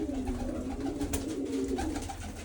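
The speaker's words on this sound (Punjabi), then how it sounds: "ਥੱਲੇ ਵੀ ਕਬੂਤਰ ਵੇਖ ਲੋ" Steady low cooing from several pigeons, continuous and close, with a constant hum underneath.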